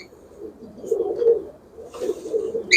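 Kalanka pigeons give soft, rolling coos in two close swells, each rising and fading, near and clear against a quiet background.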